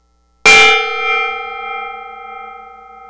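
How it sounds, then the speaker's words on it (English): A gong is struck once, a loud metallic crash that blooms into a long shimmering ring, slowly fading with a gentle pulsing waver and no voices. "Here's your gong."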